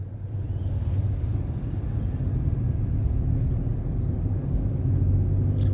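A car engine drones steadily while the car moves off after the clutch is released, a low continuous rumble with road noise holding level throughout.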